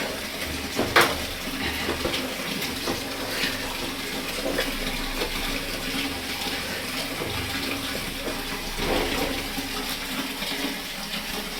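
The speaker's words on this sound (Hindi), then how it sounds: "ये चादर जो ओढ़ते हैं वो गंदी लग रही थी, तो इसको धो लिया है, इसको धुल डालते हैं।" A bedsheet is washed by hand with water, giving a steady, close splashing and sloshing wash that runs throughout without pause, with no voices.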